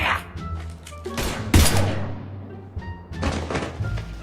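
Gunfire from the video game Mass Effect 3, heard as a few sharp thunks and bursts spread over a few seconds among game sounds, with faint speech beneath.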